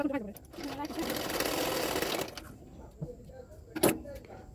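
A sewing machine runs in a short burst while stitching a folded back seam on a blouse, a steady mechanical whir lasting about a second, followed by quieter handling clicks; a person speaks over it.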